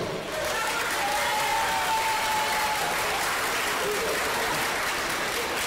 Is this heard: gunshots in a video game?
no